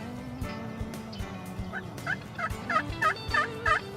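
Wild turkeys gobble at daybreak from a roost two tree lines away. A run of rapid, rattling gobbles rises toward the end, distant but distinct, over faint rustling and scattered knocks near a hunting blind.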